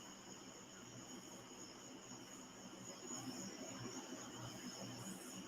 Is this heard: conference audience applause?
no